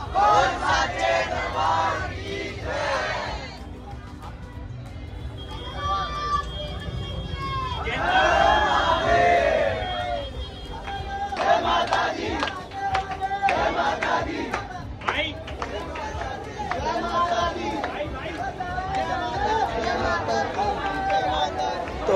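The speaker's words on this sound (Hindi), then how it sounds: "देख सकते हैं लाइन पूरी रुक चुकी है और भीड़ हो गई एकदम" Crowd of devotees queuing at Jhandewalan temple in Delhi, a loud dense hubbub of many voices with chanting and shouted calls rising and falling, people talking close by throughout.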